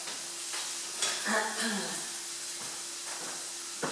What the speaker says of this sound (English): I'll have a look at the onions. They just need another stir.